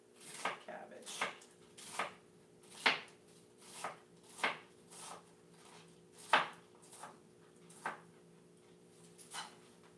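A knife slices cabbage thinly for coleslaw on a cutting board, about a dozen separate crisp chops at an uneven, unhurried pace, close and fairly quiet, with a faint steady hum underneath.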